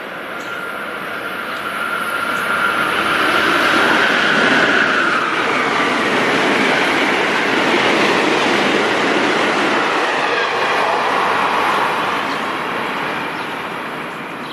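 A modern train with a bright-lit locomotive passes, a broad rushing roar that swells over a couple of seconds, holds loud and steady, then slowly fades away, with no voices.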